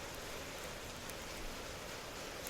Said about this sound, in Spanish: la lluvia azotaba con tal intensidad que apenas distinguí el exterior